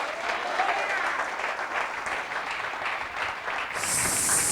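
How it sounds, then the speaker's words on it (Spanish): A church congregation breaks into sustained applause, a steady, moderately loud wash of many hands clapping at once with faint crowd voices mixed in throughout. "Denle un aplauso fuerte a Jesús."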